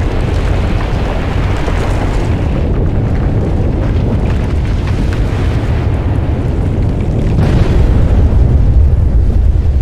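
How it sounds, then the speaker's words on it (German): A volcano erupts in the Volcanoids video game, a loud sustained roaring rumble with deep booming bursts that swells toward the end. "Erst die Eruption, dann der Schuss und dann..."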